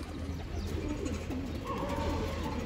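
Pigeons coo softly in a loft, a low murmuring rumble that runs steadily throughout, with faint fluttering and chirps mixed in.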